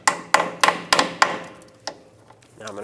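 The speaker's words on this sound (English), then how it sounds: "I'm gonna actually hammer on a 13mm because a 14 is too loose" Metal hammer blows drive a 13mm socket onto a badly rusted strut nut on a 1996-2002 Toyota 4Runner: four sharp, evenly spaced strikes, then a lighter tap and a final knock, close and ringing.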